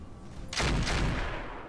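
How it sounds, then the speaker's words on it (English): Gunfire in the video game Roguepoint erupts as a sudden loud burst of rapid shots that runs on as a dense crackling volley, following a quiet start. "Oh, good shooting, Tex."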